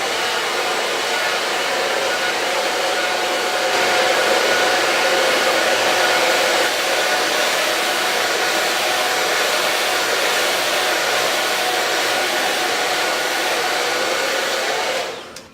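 A blow dryer roars steadily and loudly for the whole stretch, a constant airy whoosh that cuts off abruptly at the very end.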